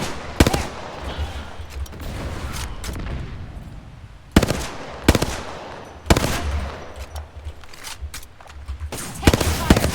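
Gunfire in an online shooter game: repeated sharp shots and bursts, some in rapid automatic strings, punctuate a noisy background of game effects, loud and close.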